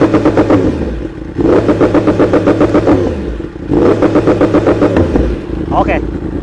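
Yamaha R1M motorcycle engine revving in two long bursts through a middle-cut exhaust setting, loud and close with a pulsing, rhythmic roar that drops briefly between bursts.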